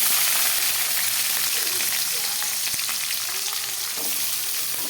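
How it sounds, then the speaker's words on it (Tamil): Onions sautéing in hot oil with mustard seeds and curry leaves for a crab curry, giving a steady, close, even sizzle with scattered soft stirring scrapes and no talking. "வெங்காயம் போட்டு நல்லா வணக்கணும்"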